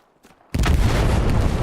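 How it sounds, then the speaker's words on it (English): A satchel charge detonates on an Allied half-track near a church in the Hell Let Loose war game, a sudden loud close boom with a long rumbling tail after a brief quiet lead-in. "Satchel goes off on the Allied half-track over here by Church."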